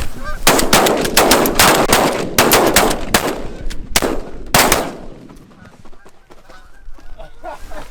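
Shotgun fire during a Pennsylvania goose hunt: a volley of several loud close blasts in quick succession, then two more shots, mixed with loud goose honking and calling throughout.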